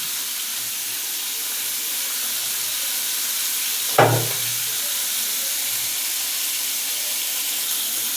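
Rohu fish fries in a kadai with a loud, steady oily sizzle throughout, broken once midway by a brief clunk of the pan or utensil.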